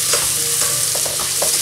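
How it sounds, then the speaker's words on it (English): Salmon belly seasoned with black pepper fries loudly in a pan, a strong unbroken sizzle with light stirring clinks and no voices. "And leave it fry for about 2 minutes."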